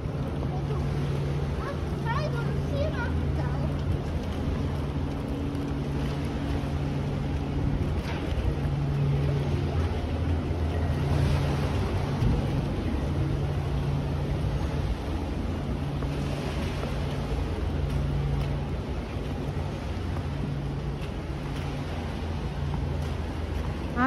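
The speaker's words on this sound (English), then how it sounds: "Ah, it's a tide pool." Water washes and sloshes continuously at a tide pool exhibit in the Tokyo Sea Life aquarium, a steady surf-like hiss with a windy rush and faint background voices.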